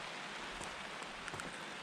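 Heavy rain pours down outdoors on a cold day, a steady close hiss with faint scattered drop patters and no talk.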